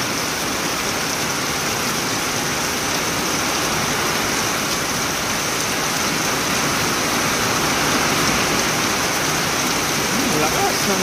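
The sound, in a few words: heavy rain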